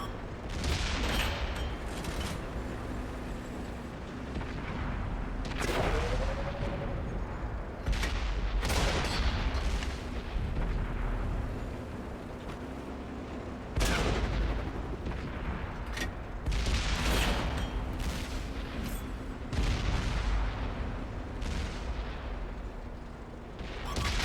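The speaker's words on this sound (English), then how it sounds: "That's 2 successful shots on the T-28 prototype's turret in a row." Tank cannon shots in World of Tanks on console, a series of loud booming blasts spaced several seconds apart over a constant engine rumble, with mechanical clanks between rounds.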